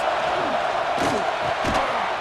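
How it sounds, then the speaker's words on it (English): A football video game stadium crowd roars at a steady loud level on a third down, with a few sharper surges and shouts rising out of the continuous cheering. "Big third down as the crowd gets behind this defense."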